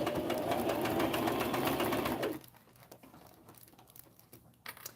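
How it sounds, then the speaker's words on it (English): A sewing machine stitching around a fabric bag, a rapid steady whirring run of stitches lasting a couple of seconds before stopping, followed by faint handling sounds. "put your presser foot down and just sew all the way around"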